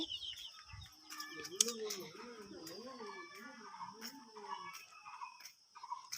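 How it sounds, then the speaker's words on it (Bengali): Chickens and month-old chicks kept penned on a farm cluck in a quick run of low, rounded calls close by, with faint high cheeping in the background and a person speaking briefly. "মুরগির বাচ্চাগুলো আটকায় রাখছি"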